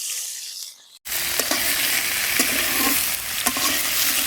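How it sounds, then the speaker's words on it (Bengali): Noini stalks fry in hot oil, a loud dense sizzle bursting in after a quieter second and continuing steadily, with periodic stirring scrapes and clicks, no speech. "এবার নাইনি ডাটা গুনাও ভালো করে ভেজে নেবে।"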